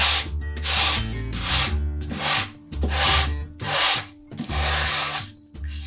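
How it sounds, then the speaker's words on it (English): Hand sanding on a wooden speaker cabinet, close up: about eight rhythmic rasping strokes back and forth with short pauses between them. "just very gently, you're going to sand"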